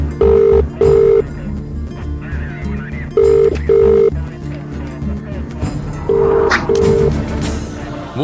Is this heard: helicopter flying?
no